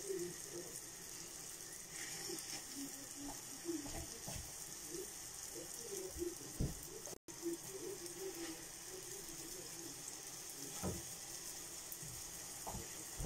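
Quiet, steady sizzle of liver-filled pirozhki frying in hot oil, with occasional soft pops and clicks, faint and continuous throughout.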